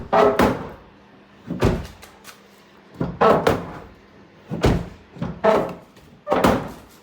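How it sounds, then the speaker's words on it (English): Repeated thuds and scraping clunks as a damaged car's driver's side door scrapes against its fender while worked back and forth, about six heavy bumps at irregular intervals, close by with no talking. "the driver's side door now scrapes with its fender, and it's a bit of a struggle when you try to open the door"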